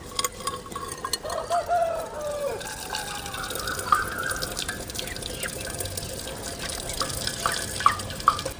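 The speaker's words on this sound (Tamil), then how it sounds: "தண்ணி வடிச்சிக்கலாம்." Cooking water drained off boiled carrots in a kitchen, a steady splashing trickle with occasional drips, moderately close, running throughout without talk.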